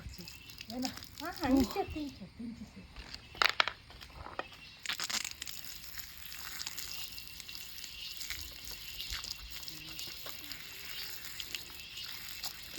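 Water splashes and gushes over a dog named Charlie during his bath, in uneven bursts with rattling and rubbing noises, while people talk nearby throughout.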